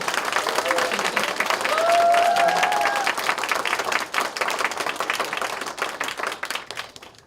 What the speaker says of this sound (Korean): 뜨겁게 박수 한번 보내주십시오